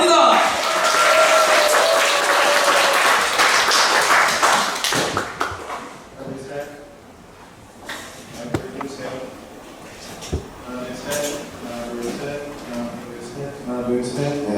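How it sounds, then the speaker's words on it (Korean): Church congregation at a Sunday worship service claps loudly for an incoming preacher, a dense burst of applause that thins out after a few seconds into scattered claps, taps and murmuring. "큰 박수 한번 받으시기 바랍니다"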